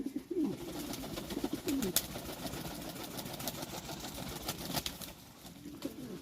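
Soft, low Lahori pigeon coos repeating a few times near the start, amid a steady rumbling hum and scattered clicks and flutters.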